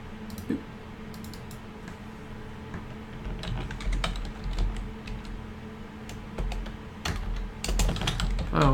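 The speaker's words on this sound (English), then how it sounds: "you hear my keyboard" Typing on a desk computer keyboard during a spaceship crew-building game session: steady bursts of close, loud key clicks over several seconds with no talk.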